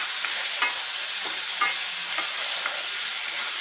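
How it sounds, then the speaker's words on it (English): Mexican rice cooks in a pan with a steady hiss of frying, broken by a handful of spaced scraping stirs of a spoon across the pan. "Then I just mix it in, let that start cooking, get the flavors blending some more."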